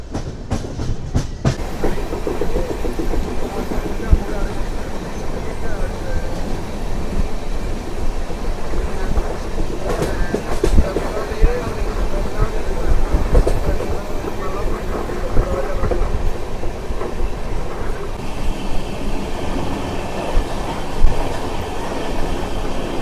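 The Satavahana SF Express runs at speed after leaving Madhira, a loud continuous rush with a rhythmic clickety-clack of wheels, heard close from inside, with voices faintly under the noise.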